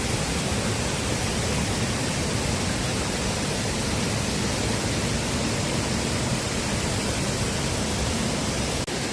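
Cheonmun waterfall in Heukseok valley on Suraksan pours with a heavy volume of water, a dense, steady roar of rushing water at constant loudness throughout, with no voices.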